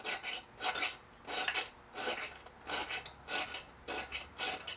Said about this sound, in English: A little piece of sandpaper. Just gently knock that rust off of there.